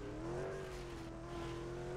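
A car engine drones at steady high revs with a sustained tonal whine in Need For Speed World, a continuous wheel spin heard close and moderately loud without a break.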